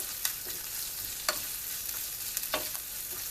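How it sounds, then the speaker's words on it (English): Jalapeños sauté in a pan with a steady hiss of frying, broken by a few sharp scrapes and clicks of stirring spaced across the moment, with no talking. "Finish sauteing these."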